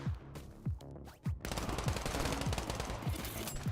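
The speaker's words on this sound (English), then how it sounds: "Suri 99's Uzi is a buzzsaw." Rapid Uzi fire in the video game Bullet League, a loud, continuous buzzing burst of automatic shots after a few spaced impacts, with other gunfire mixed in.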